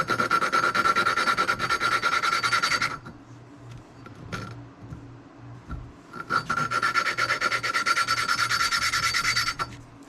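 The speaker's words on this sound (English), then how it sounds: "you're just mating the surface from the valve to the head itself" Valve lapping on an XR50 motorcycle cylinder head, the valve rubbed back and forth against its seat with a gritty, rasping scrape in two long close bursts separated by a quieter stretch of lighter rubbing.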